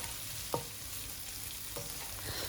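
Onions and Sichuan peppercorns frying in a wok give a faint, steady background sizzle, broken by a couple of brief stirring scrapes.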